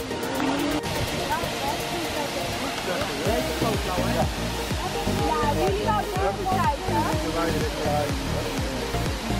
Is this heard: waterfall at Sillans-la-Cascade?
yes